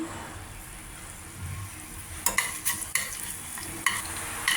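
Coriander seeds roasting in a spoonful of oil in a pan, a low steady sizzle with a few sharp stirring clinks and scrapes from a spoon toward the end, close and fairly quiet, with no talking.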